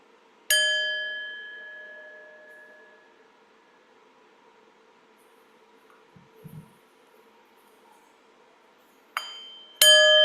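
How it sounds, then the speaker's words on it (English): A meditation bell is struck once, ringing clear and close and fading slowly over several seconds, followed by quiet, a faint soft rustle, then two more bright strikes near the end. "I will ring the bell when it's time to come out of our meditation practice."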